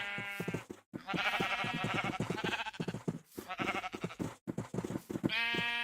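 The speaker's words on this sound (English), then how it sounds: "Hopefully I don't lose any of these sheep." Sheep bleating in a Minecraft-style zombie survival game, a run of several drawn-out nasal bleats in quick succession with short gaps, clear and close with no talk.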